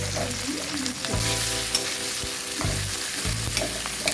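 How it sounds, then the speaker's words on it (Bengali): Onion, garlic and green chilies frying in a pan, with a steady loud sizzle and repeated stirring scrapes and knocks over it. "এবার আমি একটা মশলাগুলো ভেজে নেব। এই মশলাগুলো দিয়ে দিলাম পেঁয়াজ, রসুন, কয়েকটা কাঁচামরিচ"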